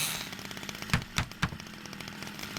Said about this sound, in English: Always use the chainsaw when you're going for the planks.